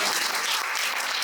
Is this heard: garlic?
no